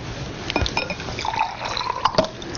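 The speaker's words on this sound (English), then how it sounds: "I can put some water in a little cup here," Water is poured into a small cup, a close, light splashing and trickling over a few seconds, with faint glassy clinks and no talking.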